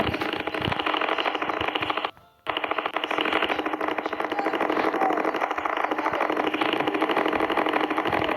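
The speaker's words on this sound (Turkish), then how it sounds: "traktörümüz" A loud, steady tractor engine idle with a rapid mechanical chatter, running continuously except for a brief drop-out midway.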